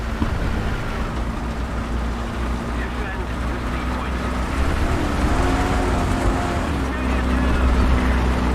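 A teammate's vehicle engine in the game War Thunder drones loud and steady throughout, swelling slightly toward the end and drowning out other sounds.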